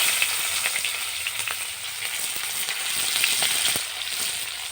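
Chopped onion sizzles steadily in a little oil in a pan, a dense continuous frying hiss with faint stirring scrapes, close and alone without any voices.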